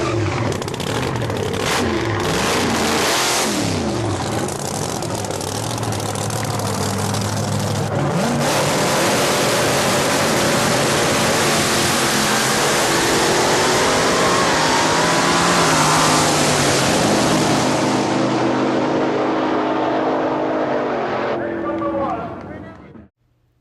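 A 1987 Ford Taurus station wagon drag car, 3,500 pounds with a Roots-blown Hemi, roars loudly and continuously at full throttle, the engine noise dense and sustained before cutting off abruptly at the end.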